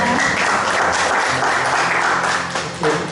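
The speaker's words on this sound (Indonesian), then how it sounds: "Tepuk tangan semuanya." A congregation at a Sunday worship service in church breaks into loud, dense applause, a steady wash of many hands clapping that holds for several seconds and tapers slightly near the end.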